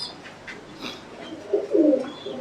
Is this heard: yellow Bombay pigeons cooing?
yes